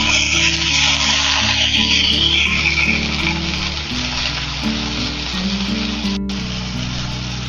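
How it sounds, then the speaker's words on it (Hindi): Chicken seekh kebabs fry on a flat tawa with a loud, continuous sizzle. A spatula scrapes and clicks now and then as the kebabs are turned. No one talks. "अब हम चपटा चम्मच लेंगे और चपटा चम्मच की मदद से अपने कबाबों की साइड चेंज कर लेंगे।"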